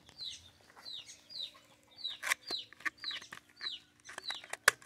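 Chickens at feeding time cluck and chatter in quick repeated calls, fairly quiet and close, with scattered sharp pecking clicks between them.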